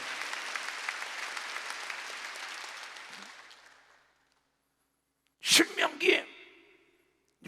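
Steady clapping from a church congregation at a Wednesday service for about four seconds, fading away into silence, followed by a brief burst of a voice.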